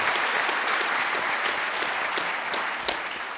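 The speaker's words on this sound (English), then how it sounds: "Big round of applause for Brianne." An audience at a retreat session gives a steady round of applause, dense even clapping from many hands that holds loudly and tapers slightly at the end.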